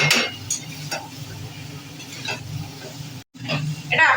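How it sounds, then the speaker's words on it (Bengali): Spiced potato masala being stirred in a pan for duck egg curry in a home kitchen: repeated scraping strokes of a spatula against the pan with a light sizzle, while someone talks over it. "এটাকে নাড়াতে হবে।"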